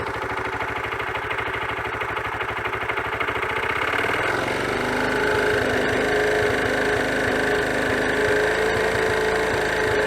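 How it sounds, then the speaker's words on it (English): A Honda CT110 Trail motorcycle engine idles with a steady rumble, then revs up around the midpoint into a louder, higher-pitched drone that holds at speed. "let's see what happens when we rev the engine."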